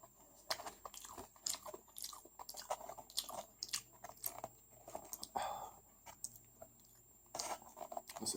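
Close, crisp chewing and biting of a kebab plate with french fries, irregular crunches and wet mastication sounds coming in bursts with short pauses, recorded very near the mouth in a quiet room.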